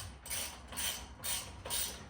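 A ratchet snugs down 18 mm bolts on the wheel-bearing hub assembly of a 2007-2013 GM Chevy truck, making four quick, evenly spaced bursts of close clicking.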